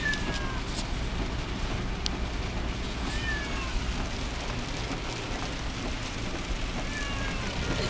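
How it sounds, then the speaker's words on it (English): Heavy rain drumming on a car while driving, a constant dense hiss with a low rumble beneath and faint high squeaks breaking through, with no voices heard. "It's really raining hard."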